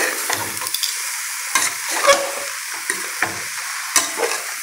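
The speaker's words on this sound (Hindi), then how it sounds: "तो इसको हम फ्राई होने देते हैं" Ginger-garlic paste and spices frying in a pan while being stirred, with a continuous close sizzle broken by scraping strokes of the spoon and a few sharper clinks, no voices.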